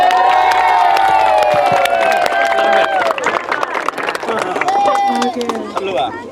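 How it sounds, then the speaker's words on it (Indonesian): A crowd at a school event cheers and shouts loudly, with children's voices and clapping mixed into the noisy, busy din. "Tepuk tangan dong."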